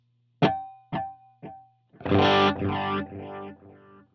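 Electric guitar played through a Helix Dumble-style amp patch with subtle chorus: three short plucked notes ring and decay, then a sustained strummed chord with a gentle shimmer, close and alone.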